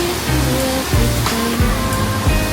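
Constant rushing roar of Wang Muang Waterfall in Nakhon Nayok, Thailand, in the rainy season, dense and close, with faint tonal sounds drifting in the background.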